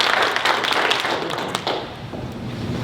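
Audience applause for Kendrick at a business seminar on cleaning managers: dense, steady clapping from a room of people, loud and continuous, easing slightly toward the end.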